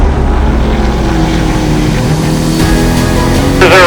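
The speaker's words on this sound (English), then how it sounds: "They're racing really hard" Race cars on a track, a loud continuous roar of engines passing close by with rising and falling pitch that swells near the end.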